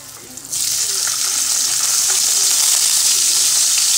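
Ginger sautés in a hot pan, breaking into a loud, steady, close sizzle after a brief quiet start and holding at full strength to the end, with a faint voice in the background.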